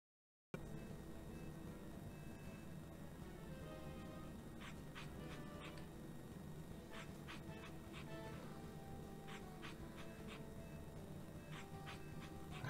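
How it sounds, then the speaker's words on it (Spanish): Dogs in the video game Guardian Tales panting and whimpering over a steady background, with soft breathy pants and brief whines clustering in the second half. "Son los perritos, la clave son los perritos."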